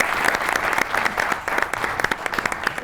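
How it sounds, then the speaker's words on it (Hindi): A studio audience claps for Aftab Iqbal at a comedy show, dense sustained applause from a crowd, loud and close, with a faint voice underneath. "आफ्ताब इकबाल के लिए ताली बजाइए"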